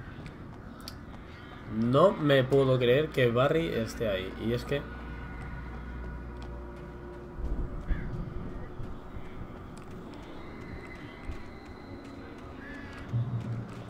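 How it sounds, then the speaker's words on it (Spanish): Crows cawing around a spooky area in the game Alan Wake, harsh calls scattered in the background while someone talks over them at the start. "Joder, todos los cuervos que hay"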